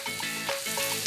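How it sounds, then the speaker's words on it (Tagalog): Pork shoulder browning in a hot pan, a steady close sizzle and crackle of frying meat running throughout with a faint tonal hum underneath, no voices. "binabrown natin yung ating kasim"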